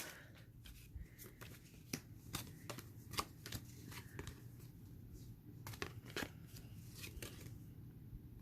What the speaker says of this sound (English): let's go ahead and open more of these